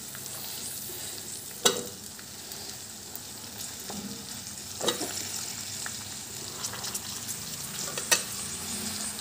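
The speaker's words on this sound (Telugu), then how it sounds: "ఇప్పుడు క్యాలీఫ్లవర్ అన్నీ మగ్గనియాలి నూనెలో" Cauliflower frying in oil for a kheema cauliflower peas masala curry, a steady broadband sizzle with a few sharp stirring clatters of the spoon against the pan, close and alone without talk.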